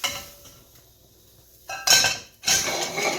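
Ravioli going into a metal cooking pot, heard as two sharp clattering clanks of metal and utensils against the pot, close and fairly loud, after a quiet stretch with no talk.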